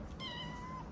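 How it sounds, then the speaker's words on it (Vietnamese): A silver tabby British Shorthair cat gives one drawn-out, fairly faint meow lasting most of a second, heard close by with no talking over it. "hôm nay tiệm về một bé mèo anh lông ngắn Silver Tabby mọi người nha"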